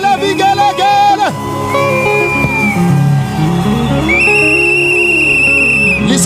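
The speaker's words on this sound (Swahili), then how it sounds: "Inua mikono yako upigie Bwana huyu asiyeshindwa makofi, vigelegele, vigelegele." A church congregation at a Kenyan crossover night service cheers loudly, with high ululation trills and whistles over dense crowd noise and a continuous musical backdrop.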